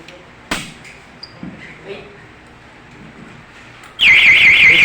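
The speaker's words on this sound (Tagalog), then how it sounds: "Okay, bell test." Fire alarm bell rings loud and continuous in the last second during a bell test of a newly installed fire detection and alarm system, following a quiet stretch with a few soft knocks and faint voices.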